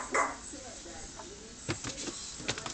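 A Bichon dog whines and gives a few short yips and barks, faint and indoors, with a soft whimper early on and quick sharp barks near the end.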